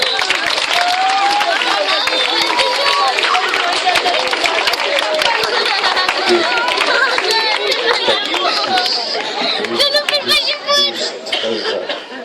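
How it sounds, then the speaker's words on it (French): Loud, dense applause from a crowd at an evening hypnosis show on a campsite, clapping sustained throughout with chatter, children's voices and laughter mixed in, growing more ragged toward the end. "On les applaudit très fort."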